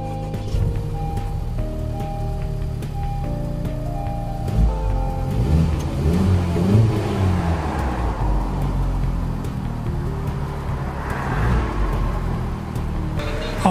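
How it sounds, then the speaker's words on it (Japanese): A Honda Civic Type R FK2, a four-year-old, near-new car from a limited run of 750, has its engine started and left idling. Tonal chimes come first, then a steady engine hum under light background noise. "ちょっと暑いんで、エンジンかけさせてもらいます。"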